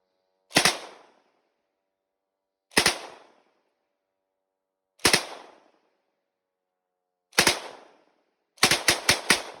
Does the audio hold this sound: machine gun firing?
yes